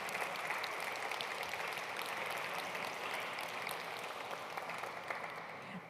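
Steady, dense applause from a seated audience at a poetry chair event honouring poets and translators, continuous and even throughout with no voices over it.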